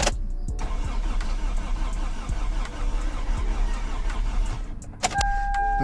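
An old car's starter cranks the engine continuously after a distributor swap, a steady, loud whirring churn that runs for about five seconds without catching, then stops with a clunk and a brief high tone.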